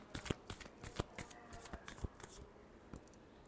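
Tarot cards shuffled by hand close up, a quick series of papery riffles and soft flicks, with sharper snaps at irregular intervals before the shuffling trails off.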